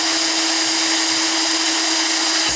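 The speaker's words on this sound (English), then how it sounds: "so we keep drilling through this material, and we keep putting holes in it" Power drill boring holes through the casing of a partly burnt-out LED bulb: a steady, dense whirring grind that holds evenly close up for the whole stretch, with no talk over it.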